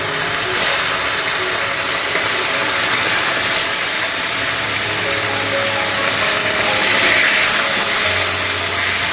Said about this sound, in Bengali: এবার আমি মাছগুলোকে ভালো করে ভেজে নেব।